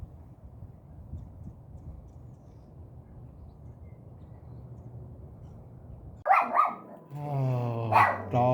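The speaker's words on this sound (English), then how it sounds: "Oh, dogs and their bark." Dogs bark and growl nearby after a long stretch of low, rumbling outdoor background. A sudden burst of loud, harmonic barks and snarls fills the last couple of seconds.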